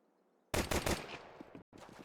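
Counter-Strike gunfire during a competitive match: after a quiet start, a sudden loud burst of several rapid shots, the headshot among them, followed by lower trailing sounds, a brief dropout and more activity.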